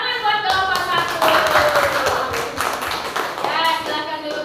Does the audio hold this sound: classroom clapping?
yes